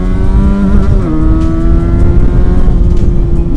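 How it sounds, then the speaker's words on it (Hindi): A Benelli 302R motorcycle accelerating hard, its exhaust note loud and close, rising in pitch through the revs with a brief shift before climbing steadily again. "थोड़ा भगा कर देखते हैं बाइक को, बाकी साउंड आप लोग चेक कर सकते हैं"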